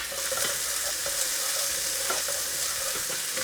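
Chopped onions dropped into hot oil with cumin seeds, ginger and garlic for a tadka dal, giving a loud, dense, continuous sizzle close up, with faint spoon taps here and there.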